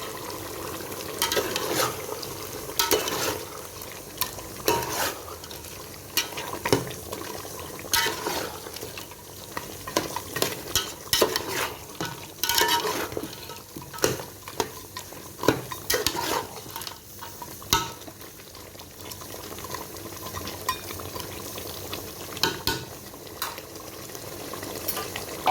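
Ginger garlic paste frying and being stirred in a pot for mutton pulao, a steady sizzle broken by frequent scraping ladle and metal clatter, close and fairly loud throughout with no talk.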